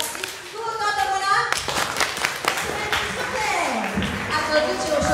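A conference audience of young people claps with whole hands in dense, sustained applause, loud and close, with voices mixed in throughout.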